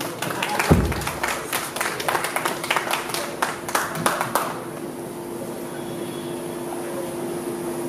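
Audience applause at a posthumous gold record ceremony for the Congolese artist Luambo Makiadi: a burst of rapid clapping that lasts about four seconds and then fades into room murmur.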